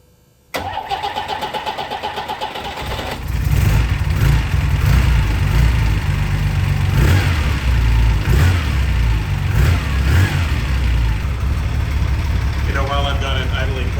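A 1972 Ferrari Dino 246 GTS cranks and fires after a short quiet moment, then settles into a loud, steady cold idle close by, with slight rises in revs.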